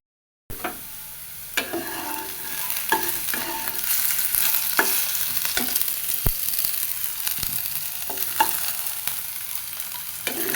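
Potatoes frying in a pan, a loud close sizzle of hot oil with repeated sharp scrapes and taps of a spatula as they are stirred and turned, starting abruptly after a brief silence.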